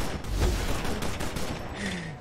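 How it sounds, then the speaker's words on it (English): A big gun fires in a superhero video game, a burst of booming, reverberant shots with rumbling low end that fades over about two seconds. "just shooting a big ass gun"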